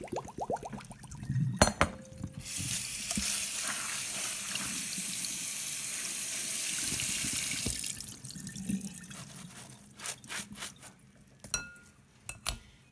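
Water pours into a pot of black beans and is drained off, a steady rushing splash for several seconds, framed by clinks and knocks of glass and cookware.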